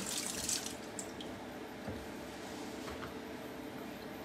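Bell peppers rinsed under a running kitchen tap, a steady faint stream of water with splashes and drips, heard close and alone.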